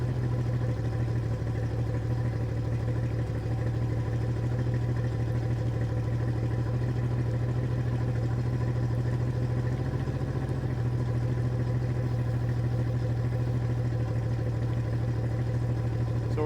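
A Yamaha 225 four-stroke outboard engine cranks or runs steadily during a spark gap ignition test, giving a constant low droning hum with no pauses, heard close and alone.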